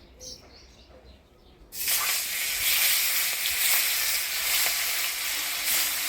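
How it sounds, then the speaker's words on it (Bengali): Rohu fish drops into hot oil in a wok and erupts into a loud, steady sizzle that runs continuously after a quieter opening of kitchen sounds. "এবার মাছটা ভাজে তরকারিটা করে নিব কড়াই গরম হয়ে গেছে দিয়ে দিব তেল"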